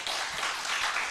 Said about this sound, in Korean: 정말 영광의 박수 한번 올립시다